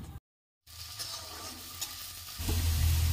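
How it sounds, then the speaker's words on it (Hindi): Finely chopped onion fries in hot oil while being stirred, a soft continuous sizzle after a brief dropout, swelling louder near the end as the pan heats up; no one speaks. "उसे भी हम तेल में डाल देंगे और इसे हम चलाते हुए सुनहरा होने तक पका लेंगे"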